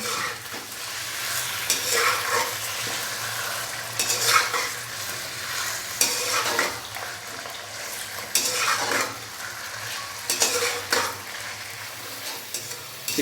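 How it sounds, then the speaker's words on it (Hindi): Chicken fries in ghee in a karahi, a constant crackling sizzle swelling with repeated stirring scrapes every second or two, close and without speech. "तो यहाँ पे हम घी के अंदर चिकन को तकरीबन 5 से 7 मिनट अच्छे से फ्राई कर लेंगे।"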